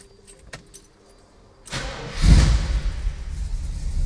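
Keys jingle faintly in the ignition of a Facel-Vega HK 500, then its engine catches with a brief starter whir and settles into a loud, steady idle rumble close by.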